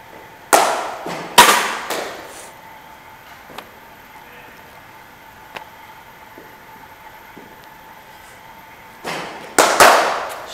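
A cricket bat strikes a ball several times during batting practice, giving sharp, loud cracks: two near the start and two near the end, with faint thuds between.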